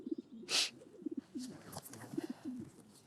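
Pigeons coo in a series of soft, low, repeated calls through most of the stretch, broken by one short noisy burst near the start.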